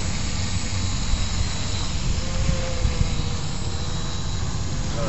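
A steady, droning buzz of a quadcopter drone hovering nearby in inverted flight, an even whirring hum that holds constant throughout.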